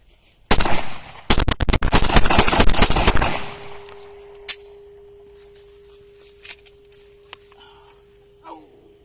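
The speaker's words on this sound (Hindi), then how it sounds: "Let me do some more firing." A Pakistani-made Glock 19 pistol fires a rapid string of sharp, loud shots for about three seconds, followed by a few scattered metallic clicks and handling noises.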